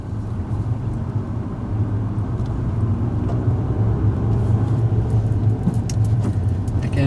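Manual car engine during a driving lesson, a low steady rumble that builds gently as the gas is eased on, heard from inside the cabin with faint light rattles above it.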